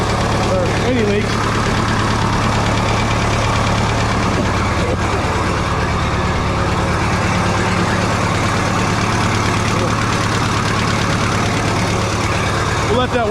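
Diesel engine of a Minneapolis-Moline U302 tractor idling as it warms up, a loud, steady mechanical drone with an even low hum and no break throughout.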